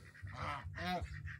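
Geese in a goose coop giving several nasal honks in quick succession, close and moderately loud, with a couple of longer calls and shorter honks between them.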